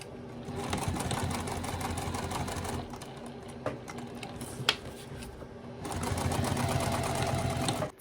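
A sewing machine stitches the seam of a small fabric wallet, running in steady rapid bursts with a short pause in the middle, close and fairly quiet with a few small clicks.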